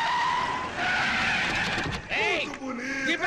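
A car's tires squeal loudly as it skids to a stop, the screech rising and then cutting off, followed by a voice speaking.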